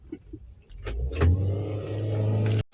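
A taxi car's engine cranks on the electric self-starter, then catches and settles into a steady idle, loud and close, after a few clicks and door or window sounds.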